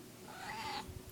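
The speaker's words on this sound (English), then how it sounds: "Why are you making that weird noise, Mimi?" A cat makes one odd, strained yowl that rises and holds for under a second before cutting off, close and fairly loud in a quiet room.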